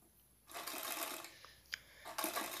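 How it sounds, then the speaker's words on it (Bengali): A sewing machine stitches lace onto a blouse in two quiet, steady whirring runs, with a soft click or two of fabric handling between them. "হালকা হালকাভাবে সেলাই করে নেব"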